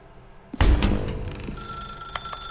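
A telephone rings in the video game The Stanley Parable, opening with a sudden loud burst followed by a steady, bright electronic ring that continues alone without any talk.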